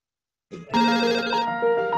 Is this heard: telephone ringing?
yes